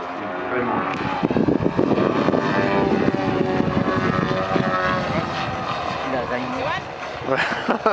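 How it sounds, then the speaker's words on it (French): A VGM-category aerobatic propeller plane roars overhead at a French air show, its engine droning steadily with pitch sweeps as it spins through extreme rotations, while an announcer speaks over it. "l'avion part dans une rotation extrême"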